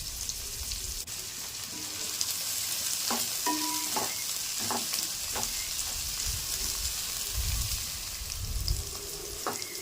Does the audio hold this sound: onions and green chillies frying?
yes